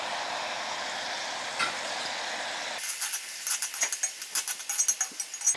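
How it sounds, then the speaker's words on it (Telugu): Onions frying on high flame for mutton liver curry, a broad steady sizzle that abruptly shifts into rapid crackling pops and stirring clatter near the end, no speech. "దీంట్లో నేను మంచిగా ఎక్కువ ఆనియన్స్ వేసేస్తున్నా."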